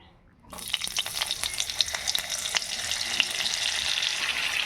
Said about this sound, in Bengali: এবার আমি কড়াই বসিয়ে দিয়েছি, আর এখানে কিছুটা তেল নিয়েছি। আবার আমি এর মধ্যে একটু বাটার দিয়ে দেবো।